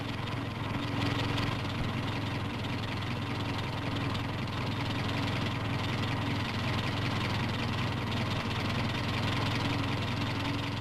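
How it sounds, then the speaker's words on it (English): A tractor engine runs steadily for the whole stretch, driving a three-point-mounted low-volume sprayer pump through the power takeoff shaft out in pasture, a continuous loud rumbling drone with a faint knocking edge and no talk. "The low-volume sprayer shown here at work in pasture is mounted on the three-point linkage of the tractor"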